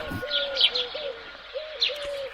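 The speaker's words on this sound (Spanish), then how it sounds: "Esto que suena es una bubilla y estas otras son nuestras amigas urbanitas, las palomas." A hoopoe's soft repeated calls alongside urban pigeons cooing in a town during lockdown, several gentle coos and faint higher chirps at a moderate distance, no voices.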